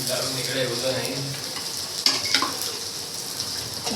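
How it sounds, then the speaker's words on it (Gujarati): Spices sizzle in hot oil in a pan for tempering (vaghar) in a home kitchen. A steady, fairly quiet hiss runs throughout, with a couple of sharp clinks or pops midway. "અત્યારે સાઈડમાં વઘાર કરે છે મારી મમ્મી"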